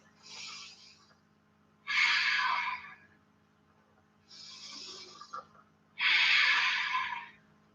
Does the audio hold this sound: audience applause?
no